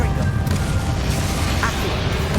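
A Confringo fire spell blast erupts in Hogwarts Legacy as a dense, loud low rumbling boom with crackling burst texture, sustained through the moment amid game battle noise.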